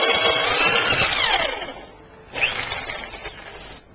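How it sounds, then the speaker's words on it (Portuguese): A DeWalt power drill bores into thin MDF wood with a loud, high whine that fades out, then a second shorter burst of drilling after a brief pause. "você acelera e continua a perfuração"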